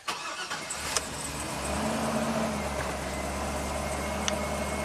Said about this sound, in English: I'm just going to fire it up normally.